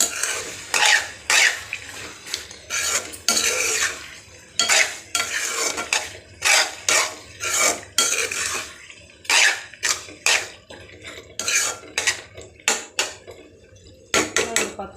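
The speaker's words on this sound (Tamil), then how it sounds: "அடி பிடிக்காமல் சிம்மில் வச்சு கலரிக்கிட்டே இருக்கணுங்க" Onionless tomato thokku simmers in oil in a pan on low heat as a spoon stirs it in rhythmic bursts, each sweep a close scraping clatter against the pan over a faint low hiss, with no speech.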